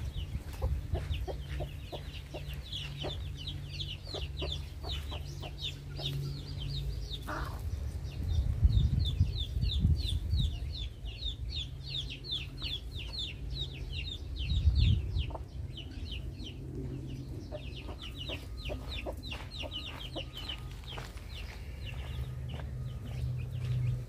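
Gold Brahma chickens, chicks and larger hens together, cluck and peep in quick, busy runs while scrambling for thrown feed, with low rustling and scratching close by throughout.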